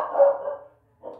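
A dog gives a drawn-out bark followed by a short pause and a second, briefer bark, close and fairly loud with no talking over it.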